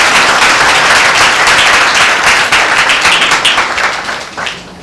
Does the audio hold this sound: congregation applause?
yes